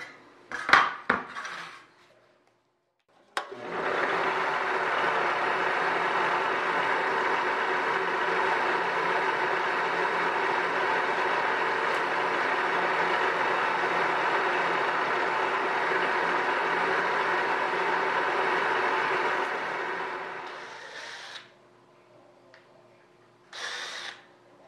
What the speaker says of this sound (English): And then drill them.